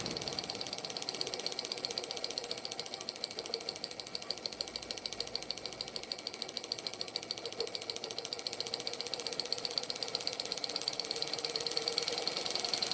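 A small Stirling engine driving a model helicopter, running steadily with a fast, even mechanical ticking and rattle from its wobbling gear, fairly quiet and close, continuous throughout.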